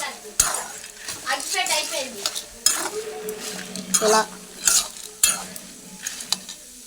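Spice mix for red chili powder frying in a pan while a spoon stirs it, giving a soft sizzle under repeated scraping and clinking of the utensil against the pan, close and moderately loud.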